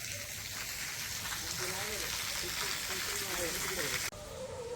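Steady patter of light rain fills the air at a village farmhouse, a soft continuous hiss with faint talking underneath.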